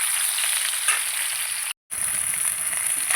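Khoira hilsa fish frying in hot oil in a pan gives a steady, close sizzle that runs throughout, broken by a short silent gap before resuming.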